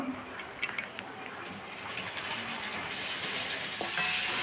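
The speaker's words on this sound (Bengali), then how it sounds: "চিকেনগুলো আমি কড়াইতে দিয়ে দিচ্ছি, দিয়ে তারপরে নাড়তে থাকবো।" Chicken dropped into a hot kadai and stirred, a few clinks at first, then a steady close sizzle that swells and keeps frying toward the end.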